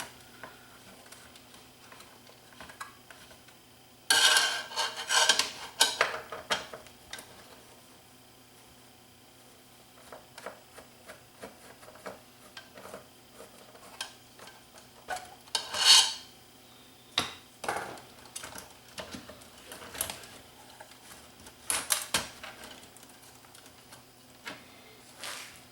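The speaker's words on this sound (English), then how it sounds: "So a few screws to lift off the front panel here. We're going to remove the deck itself." Screws being undone and the deck lifted out of a Panasonic SV-3500 DAT recorder with a servo failure: close, irregular bursts of metallic rasps, ticks and scrapes separated by quiet gaps.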